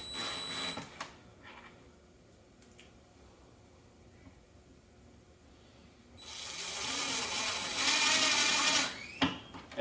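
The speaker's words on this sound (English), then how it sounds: "We're going to get the second screw in." A power screwdriver drives a screw while a table is mounted on a boat, a loud close whirring burst lasting a few seconds after a quieter stretch with light handling clicks.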